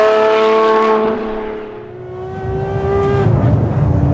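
A Talos XXT supercar built on the Ferrari 599XX accelerates hard, its loud, high-revving engine note climbing, dipping briefly at a gear change, then surging again, close and dominant with no talking.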